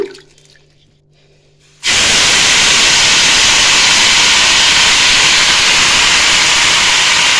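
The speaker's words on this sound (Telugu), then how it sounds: "ఇప్పుడు అదే బాండీలో మనం శుభ్రంగా తెంపి కడిగి పెట్టుకున్న తోటకూరను వేసుకుందాము." Washed, trimmed amaranth leaves hit a hot pan, and a loud, steady sizzle bursts in and holds at full strength after a short quiet start.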